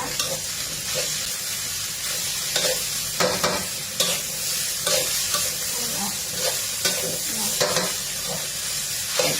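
Chinese kale stir-frying in a hot pan, a steady close sizzle and hiss with repeated scraping and tossing clatters of the spatula at an even rhythm throughout.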